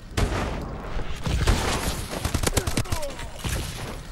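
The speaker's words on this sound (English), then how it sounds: "Everyone seems to be sniping at the moment." Rapid gunfire from a Call of Duty: Advanced Warfare multiplayer match, loud sharp shots and bursts crowding each other throughout with overlapping game effects and a voice talking underneath.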